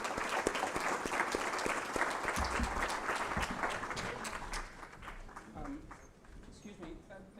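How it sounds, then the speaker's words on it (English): A forum audience in a conference hall at Dubrovnik gives a round of applause, with dense clapping that thins and fades toward the end while voices murmur underneath. "Please join me in a round of applause."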